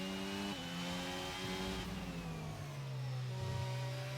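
Formula 1 race cars in an F1 video game at the Shanghai circuit, a loud continuous high-pitched engine whine with gear shifts and pitch drops as the cars race past, several engines overlapping.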